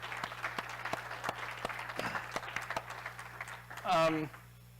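Staff at an all-staff meeting give a round of applause, a moderate spread of claps over a low room hum, with a short voice briefly rising near the end.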